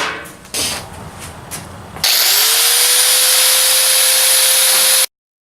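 A cutting wheel slicing through S10 truck bed sheet metal: after some handling noise, a loud, sustained high-pitched whine and grind starts abruptly, holds steady for about three seconds, then cuts off.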